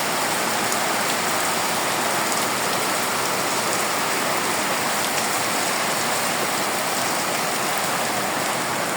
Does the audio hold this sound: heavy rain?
yes